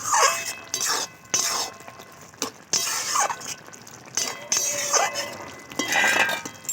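A spoon stirs a curry of potato and ridge gourd in a pan, with repeated metallic scrapes and clinks in an uneven rhythm, close and fairly loud.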